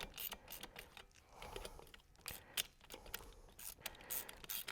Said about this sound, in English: This little handy dandy ratchet. We're just going to snap that down.